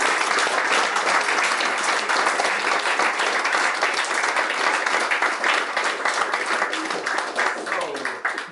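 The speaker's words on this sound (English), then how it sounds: "Applause. Wow." Loud, dense applause from a large crowd at an awards ceremony fills the whole stretch, steady throughout and tapering slightly at the end.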